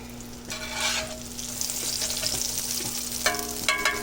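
Gyro meat frying and browning in a pan, a steady close sizzle with a few louder crackling bursts and occasional stirring scrapes throughout, no talk.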